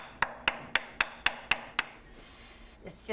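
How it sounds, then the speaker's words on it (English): Seven evenly spaced chops of a dull knife strike a cutting board with dull, heavy thuds, followed by a short scraping sound; close, no talking. "That's the sound of a knife getting dull"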